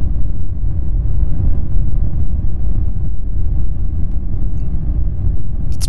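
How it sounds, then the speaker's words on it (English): A deep, loud, continuous low rumble plays as a car crash unfolds in slow motion in the BeamNG.drive driving game. A faint high chirp breaks through near the end. "The low rumble of it just being in slow-mo is just ominous."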